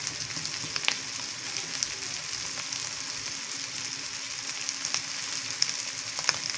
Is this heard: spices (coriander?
yes